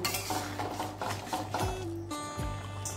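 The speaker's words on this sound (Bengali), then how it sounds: "এটা ভালো করে মিশিয়ে নেব।" A spoon stirs fried spice mix into ghughni, a dried pea curry, in a kadai, giving close scraping and clinking of metal on the pan in a few uneven strokes, with no talking.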